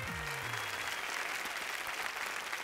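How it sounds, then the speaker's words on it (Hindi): A large audience applauds steadily and densely for a film star at an awards show in Dubai, a continuous wash of clapping from start to finish with a brief voice fading out at the start. "जोरदार ताली हो जाए गोविंदा जी के"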